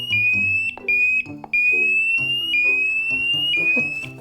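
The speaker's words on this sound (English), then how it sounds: "Fire alarm!" A water level tester dipped in a bowl of water sounds a shrill electronic alarm like a fire alarm, in repeated high rising beeps about a second apart, loud and close, with clattering and movement beneath.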